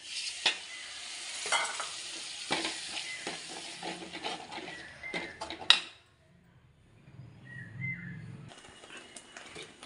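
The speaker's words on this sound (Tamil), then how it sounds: "இதில் தக்காளி பேஸ்ட்டை ஊற்றிடுவோம்" Tomato paste goes into a sizzling pan of fish curry. There is close clattering and stirring with bursts of frying for about six seconds, then a quieter, softer simmer.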